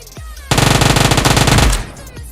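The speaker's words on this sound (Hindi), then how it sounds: "तभी मुझ पर फायर होता है" Automatic gunfire in a PUBG-style video game rings out as a loud, rapid burst of evenly spaced shots lasting about a second, with faint thuds before and after.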